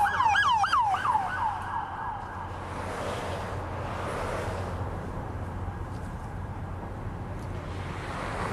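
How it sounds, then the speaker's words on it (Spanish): Police car sirens wail from an approaching funeral motorcade, the rapid rising and falling siren loud for the first second or so before fading into a steady broad rumble of passing vehicles and crowd-like street noise. "las sirenas de la caravana que posiblemente se aproxima"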